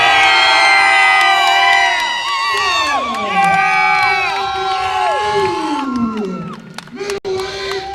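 A crowd at a Walkout FC mixed martial arts event cheers and whoops loudly after a first-round submission win, with shouts and high calls rising and falling over a sustained roar.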